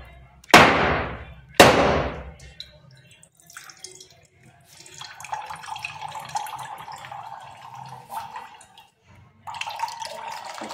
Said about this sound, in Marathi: तर आता हा नारळ आपण फोडून घेणार आहोत